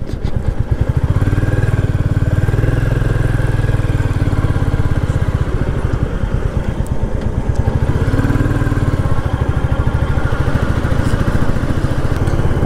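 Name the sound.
motorcycle riding on road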